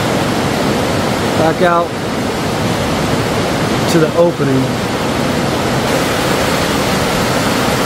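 A stream runs inside Rio Frio Cave in Belize's Mountain Pine Ridge, giving a steady, rushing wash of water that fills the whole clip while someone talks briefly over it.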